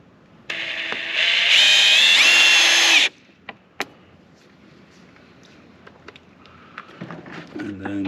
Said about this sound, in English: So I'm going to load up my drill with the screw